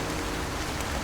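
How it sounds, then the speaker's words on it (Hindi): Steady rain falling on a city street, a dense even hiss of drops on surfaces with no breaks, fairly loud and without any voices. "बारिश उनके आसपास एक पतली सी दीवार जैसे गिर रही है"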